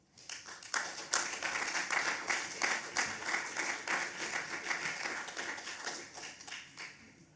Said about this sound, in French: Je pense que ça mérite une bonne main d'applaudissement, ça.